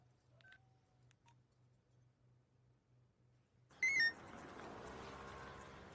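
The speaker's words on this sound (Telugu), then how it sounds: "శివ ఫోన్ చేస్తున్నాడు" Telephone keypad dialing tones in a movie scene, a run of short evenly spaced beeps at low level, followed by a brighter burst of electronic tones over a louder background.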